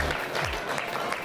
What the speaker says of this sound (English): let's give our junior exhibitors in the goat division a round of applause